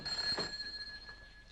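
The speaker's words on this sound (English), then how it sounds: "telephone's ringing" An old-style telephone bell rings once in a news agency office, a short bright ring that fades quickly, fairly faint and heard alone.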